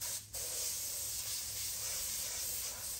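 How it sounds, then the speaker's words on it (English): Spray gun blowing compressed air into the cracks around a car taillight lens, a loud continuous hiss with a brief gap near the start, then steady to the end. "I'm blowing out the cracks and stuff around the taillight"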